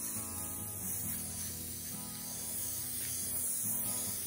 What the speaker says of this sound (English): let's start by spraying the sides